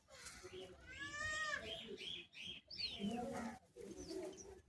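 Pigeons coo and call in a loft, soft throaty coos and a few higher calls near the microphone, with someone talking over them.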